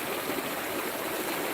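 Water scooped from the Fraser River splashes and washes down into a bucket in a brief, steady, close rushing pour.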